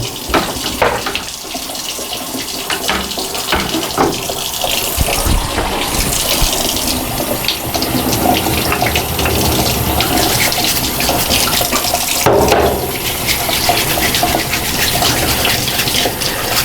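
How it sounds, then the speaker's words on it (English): Running tap water pours steadily into a sink while a Gyre aquarium pump is rinsed clean of algae, a continuous close gushing wash with brief splashy changes as the part moves under the stream. "I'm just going to rinse this one off there too."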